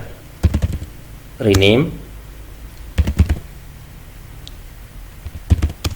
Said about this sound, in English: So here I need to type